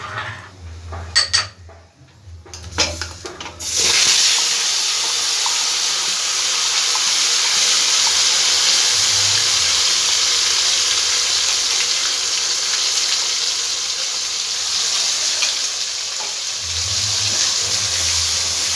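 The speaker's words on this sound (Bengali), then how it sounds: "ভালো করে মশলাটা আমি ভেজে নেব।" Ground spice paste for green jackfruit kofta hits a hot pan after a few clanks of utensils, bursting into a loud, sustained frying hiss that holds steady nearby with occasional low knocks.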